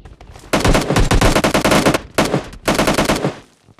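Rapid automatic gunfire from a squad-versus-squad shooter game: dense bursts of loud, close bullet fire in two long volleys with a short break between, then tapering off.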